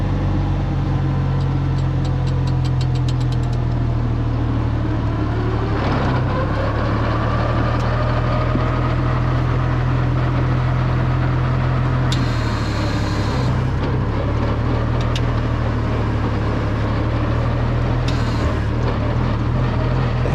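A gas tractor engine runs steadily at close range with a deep, continuous drone, pulling a 10-foot disc mower. The pitch shifts briefly around the middle as it spins up, with no talk over it.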